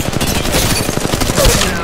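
Gunfire in the mobile battle royale game Apex Legends Mobile, heard as a loud, fast stream of close shots firing in quick rhythmic succession.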